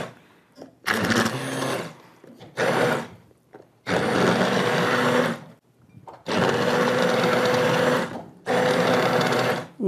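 A blender whirs in five short bursts, each a few seconds long with brief pauses between, partly pureeing a butternut squash and apple soup with chunks of squash and apple still in the pot.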